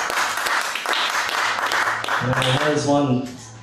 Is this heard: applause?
yes